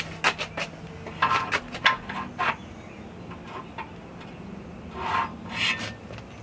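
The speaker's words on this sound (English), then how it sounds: "These are the rails that slide into the bumper to bolt to." Steel rails slide into a Jeep Wrangler rear bumper with a series of short, close scraping and rubbing bursts, followed by a quieter pause and two more scrapes near the end.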